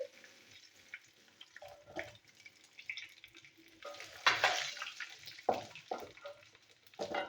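Bay leaf, radhuni and mustard seeds sizzle in hot oil, a quiet steady crackle punctuated by sharper pops and spatters that grow louder and denser toward the end, with stirring and utensil clinks, no voices.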